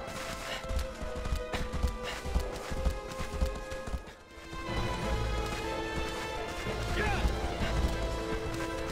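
Hooves of Agro, the horse in the video game Shadow of the Colossus, clip-clop in a fast gallop under game noise, with a brief lull midway before the running resumes.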